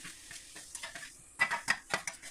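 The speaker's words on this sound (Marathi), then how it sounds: "आता हा गाजर खिसलेला आपण याच्यामध्ये टाकून घेतलेला आहे आणि छान त्याच्या तुपामध्ये परतून घ्यायचं आहे" Grated carrot sautéing in ghee in a hot kadai, soft sizzling under repeated scraping strokes of a spoon against the pan, close and fairly quiet, with several sharper stirs near the end.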